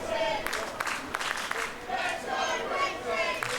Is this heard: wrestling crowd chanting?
yes